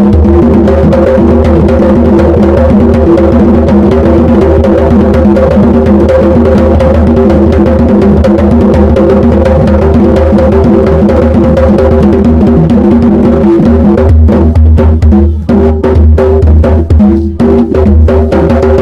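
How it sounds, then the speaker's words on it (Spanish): Live mapalé music played in San Basilio de Palenque, Colombia, a loud, dense and continuous band sound with steady driving percussion throughout and sharper hits toward the end. "And now he's going to play a song of happy music that is called mapalé."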